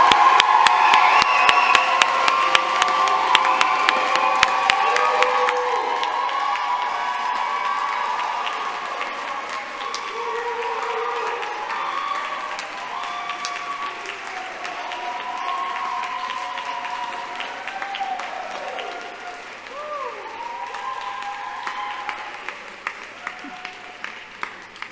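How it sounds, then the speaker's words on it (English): A commencement ceremony crowd applauds and cheers for graduates, with clapping and scattered voices strongest at first, then settling into a lighter wash of applause and crowd murmur. "Let's give another round of applause for these incredible graduates."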